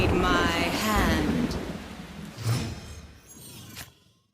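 A storm and wind effect from the Marvel Snap card game plays, a loud rumbling gust with rain-like hiss that swells, peaks and fades, with a voice speaking briefly over it.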